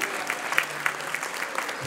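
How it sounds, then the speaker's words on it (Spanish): Audience applause at a school graduation ceremony, a steady wash of clapping from a crowd that carries on unbroken at moderate loudness. "Le brindamos un fuerte aplauso"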